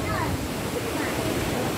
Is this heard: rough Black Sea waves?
yes